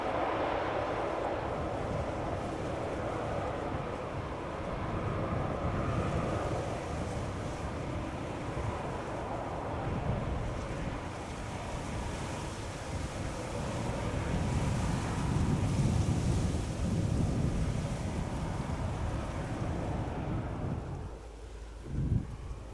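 KLM 737-900 airliner in SkyTeam livery on a parallel arrival at Amsterdam Schiphol, a broad rumbling jet roar swelling steadily then cutting away near the end, outdoors with wind over the microphone.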